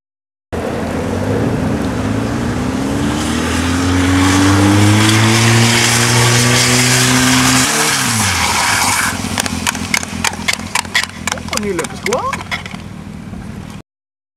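A car engine drones loudly while drifting on a motorsport track, rising and falling in pitch. It ends in a burst of rapid crackling and clattering.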